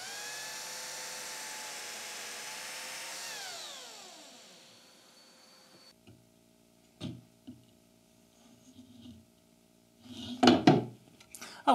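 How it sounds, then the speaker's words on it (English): A biscuit jointer plunge-cuts a slot in a picture frame miter: a high motor whine runs, then spins down and fades, followed by a few soft clunks and a louder burst of knocks near the end. "the blade itself from the biscuit jointer will go in the exact place you want it to go on your picture frame"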